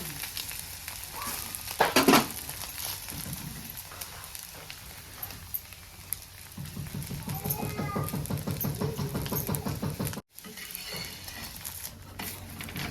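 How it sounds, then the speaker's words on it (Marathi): Egg paratha frying in oil on a pan, a steady close sizzle that grows louder and denser partway through, with a brief scraping clatter early on and a short cut near the end. "आता ह्या साईडला पण छान असं आपल्याला भाजून घ्यायचं आहे तर भाजायला अजून थोडंसं तेल टाकायचं आपल्याला ह्याच्यावर"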